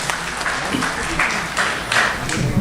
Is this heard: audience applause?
yes